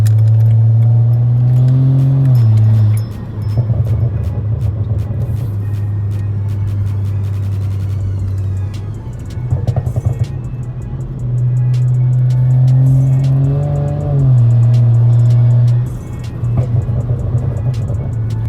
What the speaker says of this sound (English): the exhaust sounds from this car do not do it justice from the camera